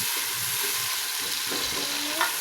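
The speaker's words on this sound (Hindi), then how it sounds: "इसको हल्की आंच पे हम फ्राई करेंगे" Sliced medium onion frying in a mug's worth of oil over low heat for kadhi, a steady soft sizzle with a brief stir partway through, close and uninterrupted by voices.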